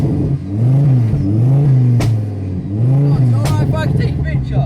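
A WRC-inspired forged Ford Fiesta ST revs hard nearby at a King of the Hill car event, loud repeated rising and falling engine blips with sharp pops and crackles between them.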